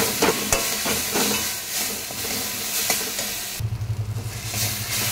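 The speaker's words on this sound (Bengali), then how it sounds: "মশলা একটু ভেজে ভাজা ভাজা করে নেব।" Spices with fennel seeds fry in hot oil in a pan for a ridge gourd and potato dish, a loud continuous sizzle with scraping stirs, then a brief pulsing bubbling near the end.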